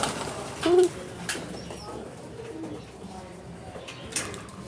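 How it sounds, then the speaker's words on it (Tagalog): Pigeons on a third-floor rooftop coop give a brief low coo near the start, with faint wing flutters and background activity around it. "Ayan, mga kalapati natin."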